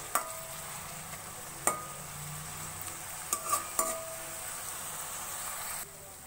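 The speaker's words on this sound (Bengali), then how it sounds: "পেঁয়াজের সঙ্গে মশলাগুলো একটু ভাজা হয়ে যাবে।" Whole spices, bay leaf, green and black cardamom, cinnamon, cloves and peppercorns, fry with onion in oil in a low, steady sizzle, punctuated by a few sharp clinks and scrapes of a utensil against the pan.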